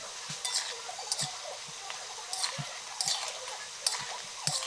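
Long khurma dough pieces frying in oil while a spatula turns them, giving a soft continuous sizzle with light, irregular scraping ticks close by, and no speech.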